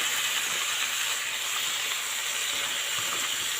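Spinach tossed into vegetables already frying in a pan gives a steady, close sizzling hiss that holds evenly throughout, with no voices over it.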